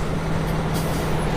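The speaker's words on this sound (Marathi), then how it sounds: "ट्रकवाल्याने ओव्हरटेक केलं मला" A truck overtakes in Euro Truck Simulator 2, a steady, loud engine drone with a low hum running throughout and a brief airy hiss near the middle, no voices over it.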